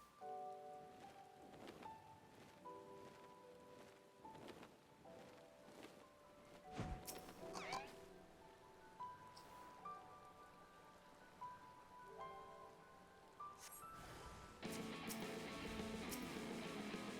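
Soft rain patters within calm Final Fantasy XIV background music, gentle melodic tones over a continuous faint drizzle, with a few dull thumps and the rain thickening near the end.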